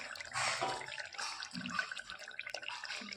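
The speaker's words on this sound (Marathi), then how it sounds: "आपल्याला टाकायचं त्याच्यात पाणी. गरजेनुसार पाणी टाकायचं." Water is poured into chicken curry in a few short, splashy bursts close by, fairly quiet, with brief pauses between pours.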